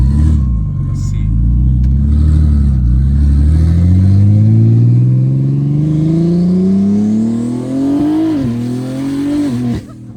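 Hard acceleration from a 1500 bhp BMW M3 Competition, the engine roaring close and loud as the pitch rises steadily over several seconds with brief dips at gear changes and some tire noise.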